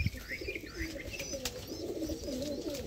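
Madras pigeons coo inside a cage, soft repeated throaty coos with a few faint chirps, quiet and close with no talking.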